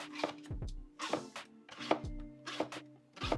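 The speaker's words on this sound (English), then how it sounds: "cut it down lengthwise. And from there, cut about 1/4 inch slices" A kitchen knife slices a vegetable lengthwise-halved into quarter-inch half-moon pieces for Filipino sinigang, each cut landing as a crisp tap on the cutting board in a steady rhythm, about one every two-thirds of a second, close and alone.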